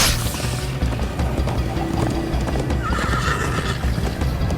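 Horse neighing and galloping in the video game Minecraft Story Mode, with continuous hoofbeats and a whinny over a busy game soundtrack, loud and close throughout.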